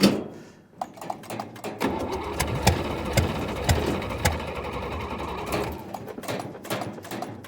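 A classic truck engine with a bad carburetor idles close by, a rough, uneven rumble with sharp ticking knocks. It starts up after a brief quiet moment and runs steadily before dropping away near the end.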